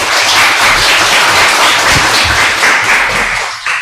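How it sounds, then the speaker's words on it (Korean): Loud, dense applause from a university lecture audience at a special talk on AI and media art, steady clapping throughout that tapers slightly at the very end. "박수."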